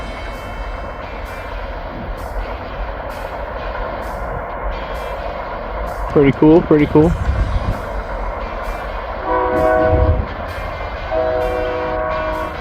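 A passing freight train's horn blows a few loud blasts over a steady low rumble of rolling cars, with a person speaking briefly near the end.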